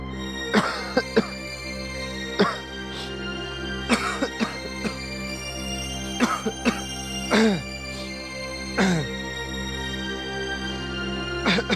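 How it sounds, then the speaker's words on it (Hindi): Repeated harsh coughs in short bursts, about seven fits spread across the stretch, close and fairly loud against a steady low hum. "बहुत खांसी हो रखी है।"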